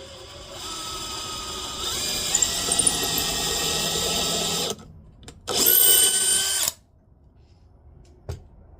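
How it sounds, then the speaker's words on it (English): A power drill bores through soft wood while building a bluebird house, whining steadily for several seconds, then stopping and giving a second short, higher burst, close and loud. "I have to drill through that soft stuff there"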